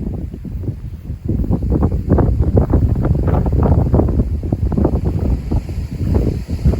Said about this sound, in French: les rafales de nord-ouest atteignent quasiment les 70 km/h